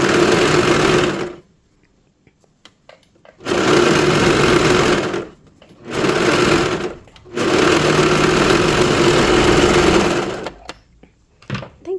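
A sewing machine stitches a collar onto a small pet dress, loud and close in three long whirring runs separated by quiet pauses, with a short final burst.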